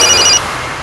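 A telephone rings briefly with a bright electronic trill, fairly loud and close, cutting off partway through, followed by quiet room tone with no talking.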